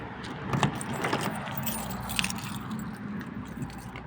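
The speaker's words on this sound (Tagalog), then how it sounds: "Ito yung susi." A bunch of keys jangles near a car, giving bright metallic clinks and rattles in several quick bursts over a low background rumble.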